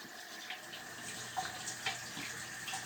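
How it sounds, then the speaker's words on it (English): Water runs steadily from a tap as a remote control's circuit board is rinsed under it, a soft continuous splash with faint shifting spatters and no voices. "Now rinse the board off."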